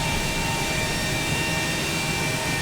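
A Ryanair jet takes off from Charles de Gaulle in the X-Plane 12 flight simulator, a loud, steady roar of engine noise with no change, filling the whole short stretch alone.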